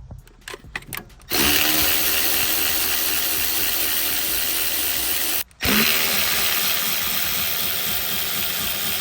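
A power tool with an 8mm socket whirs loudly and steadily while removing valve cover bolts, preceded by a few short bursts and briefly cutting out before running again.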